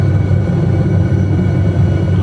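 Continuous low rotor and engine rumble from an SA315B Lama helicopter in flight over Lofoten, Norway, in a flight simulator game, loud and steady throughout with no talking.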